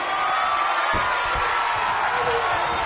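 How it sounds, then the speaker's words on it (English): A wrestling crowd at a live event roars steadily throughout, a dense wall of cheering and shouting with no clear breaks. "The roar of this crowd has been built."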